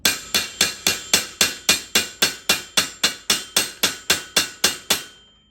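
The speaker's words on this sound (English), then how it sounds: "We're gonna use the round end here of this ball peen hammer. This one, by the way, is called a rounding hammer." A steel rounding hammer, ball end, strikes copper being planished into a coffee scoop: about sixteen loud, sharp, evenly spaced ringing blows in a steady rhythm, each decaying quickly, close up with no talk.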